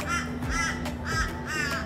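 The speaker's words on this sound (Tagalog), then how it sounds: "Oh, it's a crow." Four harsh crow caws in steady succession, fairly close and loud, over a low background hum.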